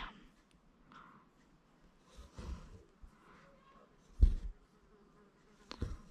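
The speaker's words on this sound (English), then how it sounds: "I've got a fly buzzing around me." A housefly buzzes around a room, faint and intermittent, drifting near and away, with a few louder breathy bursts and soft handling noises.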